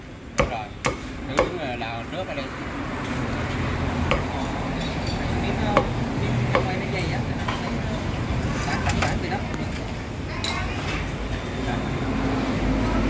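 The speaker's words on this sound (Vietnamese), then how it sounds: "mình kết cái con dao của chị quá chặt xương chặt thịt nghe đã" Sharp, irregular knife chops on a cutting board as a cleaver cuts through roast pork bones and meat at a busy Vietnamese rice restaurant, a few loud strikes early then steadier thuds, amid background chatter and clatter.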